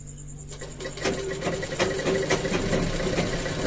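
A sewing machine stitches fabric with a steady, close mechanical whir and rhythmic needle tapping that runs continuously and grows slightly louder over several seconds.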